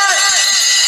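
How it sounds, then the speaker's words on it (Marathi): Taal hand cymbals ring through a kirtan, a dense bright metallic shimmer sustained across the whole moment, loud and continuous with crowd voices blended in. "टाळ फक्त टाळ"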